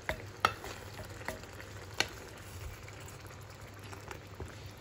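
Tomato sauce made from a full carton of tomatoes for an aubergine gratin is stirred gently in a pan, a soft, steady, faint scraping and bubbling with a few light clicks of the spoon, no voices.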